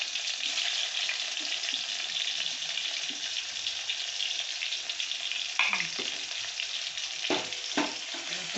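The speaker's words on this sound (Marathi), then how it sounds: "हे असं थोडंसं तेल ओतून त्यात अशी कोथिंबीर टाकायचं. स्वच्छ टमाटर टाकून घ्यायचं." Coriander leaves and tomato frying in a little oil for a tempering, a steady close sizzle throughout with brief clatters of stirring near the end, no talking.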